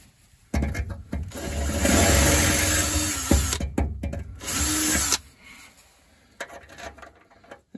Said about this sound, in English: So that's what I got to drill out a little bit.